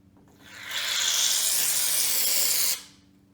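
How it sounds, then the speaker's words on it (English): Shaving foam sprayed from an aerosol can onto water in a jar makes one steady, close hiss of about two seconds, rising sharply and cutting off cleanly, with no talking. "take the shaving foam and we're going to spray it onto the top of the water"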